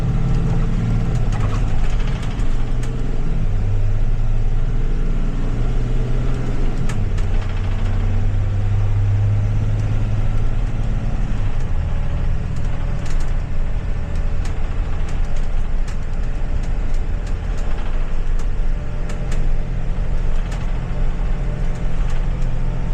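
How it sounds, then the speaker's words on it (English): Steady tire and road rumble with a low engine drone fills the cabin of a 2025 Thomas C2 bus on the move, continuous and fairly loud with shifting tones. "A little bit of tire noise."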